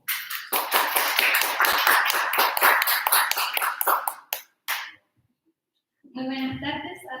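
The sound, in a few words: audience applause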